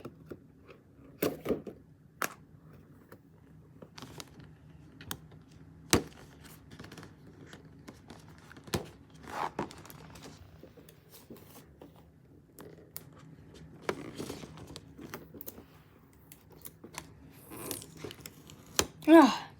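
Tape being cut off the packaging of a Superman figure: sparse scissor snips and crinkly plastic rustles, with sharp clicks and brief tearing bursts amid quiet gaps, close and fairly soft.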